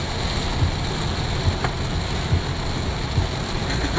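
Heavy rainstorm hitting a moving vehicle on a flooded road near Playa del Carmen, Mexico: a constant hiss of rain and water spray with low rumbling and a few soft thumps, steady and close.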